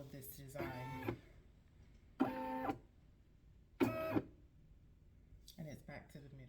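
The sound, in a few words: Brother SE630 embroidery machine tracing the design outline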